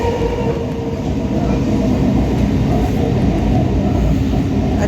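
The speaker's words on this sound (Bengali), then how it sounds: "আমরা ট্রেনে এখন বসে পড়েছি" Inside a moving local train near Chandannagar, West Bengal, heading toward Howrah: a loud, steady rumble of the carriage with rattling and faint rail clatter throughout, no voices.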